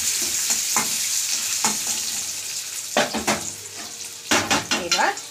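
Pre-fried pointed gourd pieces being stirred in a pan of sizzling oil with dry chilli tempering, for moong dal: a steady frying hiss broken by scraping spatula strokes and clinks against the pan.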